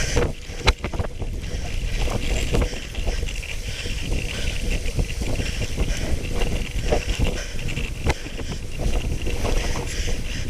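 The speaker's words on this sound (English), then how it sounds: "It is windy here." Strong wind on a bike ride through flat country near Blyth, North Nottinghamshire, roars and buffets against the microphone throughout, a constant rushing noise with occasional gusty thumps and no talking.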